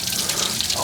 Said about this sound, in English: that way all the water that's in here drains back to the pool